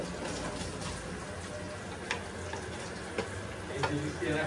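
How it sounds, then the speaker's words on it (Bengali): A dish cooked in coconut milk frying in a pan, with a steady close sizzle broken by a few sharp spatula taps and stirs. "এটা আর একটু ভেজে তারপর খাবো।"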